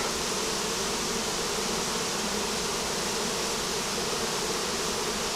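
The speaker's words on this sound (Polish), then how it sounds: "Ale bardzo spokojne pszczoły, nic, nic nie atakują." A honey bee swarm that settled into a hive on its own hums as a dense, steady drone, close and unbroken, with no voices over it.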